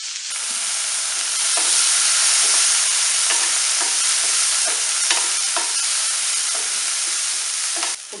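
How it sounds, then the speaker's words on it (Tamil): Boiled chickpeas are stirred into a frying pan for sundal, making a loud, continuous hissing sizzle with regular spoon scrapes and clatters through the stirring. "இப்போ நம்ம இந்த வேக வச்சிருக்க சென்னாவை போட்டுடலாம்."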